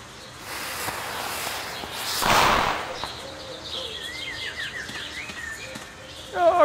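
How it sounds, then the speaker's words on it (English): Video game birds chirp and twitter in quick repeated calls, with a soft rushing swell partway through as they fly away, and faint background ambience. "They're flying away! Crazy birds!"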